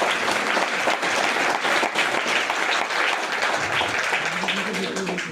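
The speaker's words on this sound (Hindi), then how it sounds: "एक बार ताली तो होना चाहिए ना।" An audience at a seminar in Faridabad breaks into sustained applause, dense clapping filling the room steadily for several seconds, close and loud, with a voice briefly audible under it toward the end.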